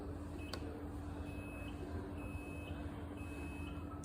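An e-drive oven's control panel gives several short, faint electronic beeps over a steady mechanical hum as its program is stopped, with no talking.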